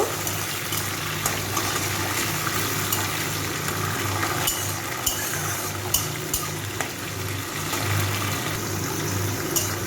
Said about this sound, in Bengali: ছোলাটাকে একটু ভেজে নেব।